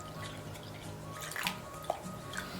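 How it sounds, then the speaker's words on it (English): Water runs into a container for paint mixing, a soft continuous trickle with small drips and splashes, faint and steady with no talking. "I'm gonna fill it up with some water."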